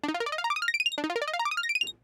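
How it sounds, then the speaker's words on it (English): Rapid synthesizer arpeggiator runs in the style of The Midnight sweep upward in fast, evenly spaced notes, two quick runs in a row, bright and plucky, ending abruptly. "Let's activate the arpeggiator."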